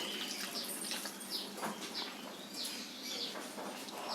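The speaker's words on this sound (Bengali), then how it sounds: "একটু জল দিয়ে দেবো" Water pours into a pot of chana dal, a steady faint splashing trickle heard close for the whole span, with light watery bubbling textures and no voices.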